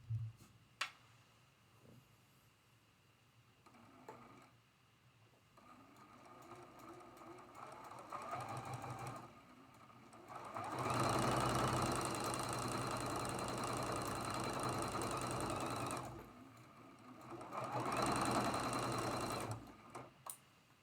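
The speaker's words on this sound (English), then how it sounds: "We're going to sew that seam with a 1/4 inch seam allowance." A sewing machine stitches a quarter-inch seam on a four-patch quilt block, humming in two sustained, fairly loud runs after quieter handling sounds, with a short pause between them.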